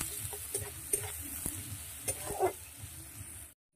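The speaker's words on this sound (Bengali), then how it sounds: "এখানে পেঁয়াজটা 2 থেকে 3 মিনিট ধরে খুব ভালোভাবে ভেজে নেব" Chopped onion frying in hot oil in a wok for a Bengali mutton dish, a close sizzle broken by repeated scraping stirs of a spatula, ending abruptly; no speech.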